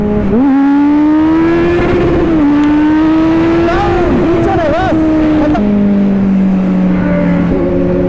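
A Kawasaki Z900 motorcycle engine revs loudly and close while riding, its pitch climbing, dipping and shifting through gear changes, with a voice talking over it.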